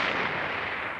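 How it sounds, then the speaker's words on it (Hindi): Loud, dense blast of explosive noise that stays broad and steady for about a second, heard on its own with no voices, like a bomb or a big firework going off nearby. "ये बम की आवाज थी मुझे लगता है।"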